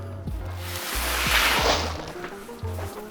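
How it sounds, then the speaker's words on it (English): Plastic test balls poured out of a liter-marked volume cylinder in a backpack design studio, a rushing cascade that swells and fades, with a few hollow knocks and thumps near the start and end. "Okay, so we'll pour out those balls."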